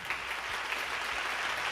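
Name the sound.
audience applause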